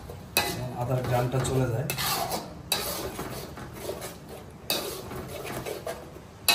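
A utensil stirs beef liver with garlic and ginger paste in a pan, scraping softly with a few sharp clinks against the metal, while a voice speaks briefly.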